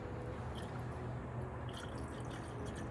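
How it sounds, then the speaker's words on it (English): Coolant poured back into the engine of a BMW E92 M3 gives a steady, close liquid trickle with faint dripping for about three seconds, with no talking. "Now we're gonna put the coolant back in."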